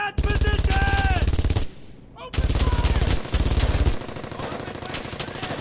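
Sustained rapid gunfire from a Brothers in Arms: Hell's Highway firefight, loud dense bursts with a brief lull midway, then continuing volleys at a slightly lower level, with a shouted voice near the start.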